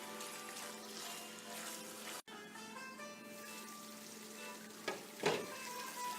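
Beetroot sabzi with a spoon of yogurt cooks on low heat in a pan, a steady soft sizzle with occasional stirring scrapes and clinks.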